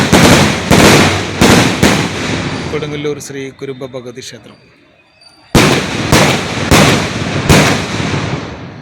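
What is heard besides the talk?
firecracker bursts, temple firework offering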